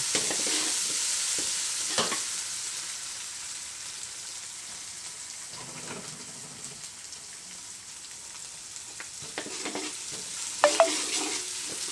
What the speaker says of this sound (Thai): ลวนไก่ให้หอม แล้วค่อยเอาลงไปใส่ถ้วย